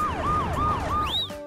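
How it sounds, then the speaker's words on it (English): An ambulance siren wails continuously in loud, rapid up-and-down sweeps, close and dominant with no talk over it. "Ambulance!"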